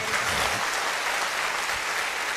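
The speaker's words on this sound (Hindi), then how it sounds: "मैं चाहूंगा एक बार जबरदस्त तालियां मेरी मां के लिए मार दीजिए" A large audience at a network-marketing motivational talk breaks into loud, continuous applause, a dense, uniform roar of clapping that stays level for the whole stretch with no talking.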